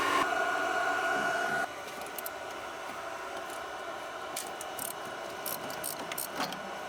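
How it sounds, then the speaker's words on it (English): An induction heater warms a corroded shock nut on an Infiniti QX56/QX80 or Nissan Patrol/Armada, giving a steady electronic whine. The whine is loud for the first moment, then drops to a faint hum with light metallic clicks. "We're gonna try and use a fancy little induction heater to heat that nut up"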